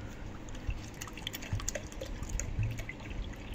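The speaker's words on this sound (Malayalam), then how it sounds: "അപ്പോൾ 5 കപ്പ് അളന്നൊന്നും ഒഴിക്കട്ടെ കേട്ടോ." Water pours steadily into a pressure cooker holding rice, a continuous trickling and splashing stream at close range with small drips and no talk.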